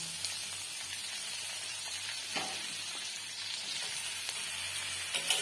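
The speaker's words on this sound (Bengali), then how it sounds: "এরপর কেটে রাখা বেগুন আর আলুগুলোকে দিয়ে দেব।" Eggplant and potato pieces fry in a pan with turmeric and salt, giving a steady close sizzle with occasional faint scrapes and crackles throughout, no voices.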